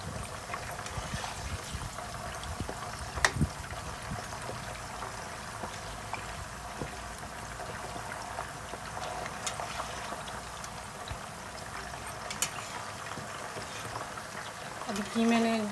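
Dum kebabs fry in a pan of oil that bubbles and sputters where water has gone into it. A steady, soft crackling sizzle runs throughout, with occasional sharper pops.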